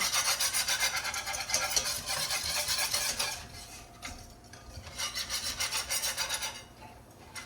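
A utensil stirring liquid into a pan for Swedish meatball sauce makes a steady rasping scrape in rhythmic strokes, pausing briefly before resuming.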